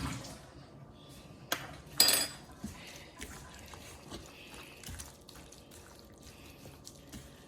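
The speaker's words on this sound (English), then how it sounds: "I go ahead and wash that spoon" Water runs from a kitchen tap as a spoon is rinsed at the sink while brown stew chicken is being made, with a few sharp clinks of metal against the basin over a steady background wash.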